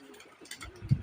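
Pigeons kept in a home loft coo softly, with a low throaty burst near the end over faint background hum.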